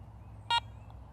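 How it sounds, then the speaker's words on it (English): A Garrett ACE 400i metal detector gives one short, clear electronic beep on power-up, loud and close against a quiet low hum. "To power off, press the power button and hold for about 1 second until you hear that second beep."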